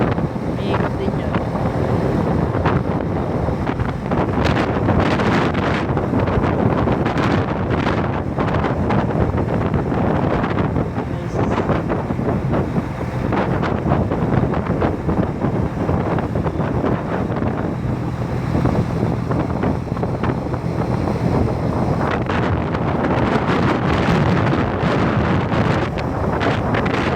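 Strong wind blasting across the microphone during a sandstorm, a continuous loud roar with gusting surges throughout, and faint voices now and then beneath it.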